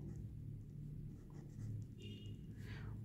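Pen or pencil writing a number by hand on paper, faint scratchy strokes close by over a low steady room hum.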